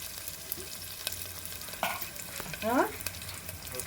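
Dried red chili drops into hot oil for a village-style dal rasam, giving a soft background sizzle with a brief burst of crackling near the end and a few light utensil taps.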